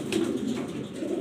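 Jharna Shating pigeons coo close by in a steady low throaty burble, with a brief flutter near the start.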